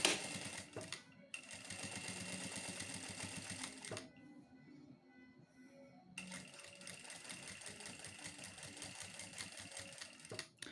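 A sewing machine runs in steady bursts set to stitch number 3, its rapid mechanical chatter filling most of the span, stopping briefly in the middle before resuming at the same close, even pace.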